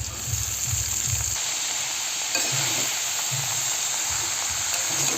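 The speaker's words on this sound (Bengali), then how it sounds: "এবার বাঁধাকপিগুলো ঢেলে দেবো।" Cabbage tipped into a hot, full frying pan of half-cooked potatoes, sizzling steadily with bursts of low stirring and scraping.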